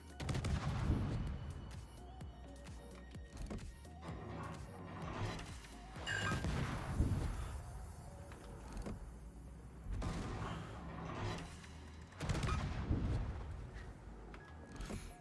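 Heavy warship guns fire in World of Warships, with 16-inch guns and a Japanese Shimakaze destroyer involved: about four loud booming salvos spaced several seconds apart, each rumbling and rolling off into a low tail.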